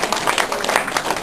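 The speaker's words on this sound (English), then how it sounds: "Please take a moment to clap for your teachers and how fabulous they are to get you to this point in your lives." Graduation ceremony audience applauding for teachers, a dense, steady patter of many hands clapping at once, fairly loud and continuous, with no voices standing out.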